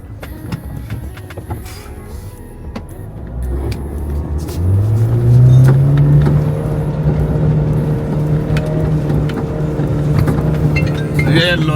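A Mahindra Thar's engine revs hard as it climbs a fresh desert track in Rajasthan, the loud rumble rising in pitch, then holding at a strained, steady drone, with a voice heard briefly underneath.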